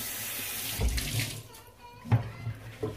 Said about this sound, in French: je vais mouiller mon éponge